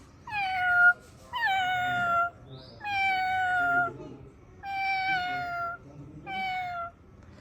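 A voice imitates a cat, giving five drawn-out meows one after another with short pauses between, close and clear.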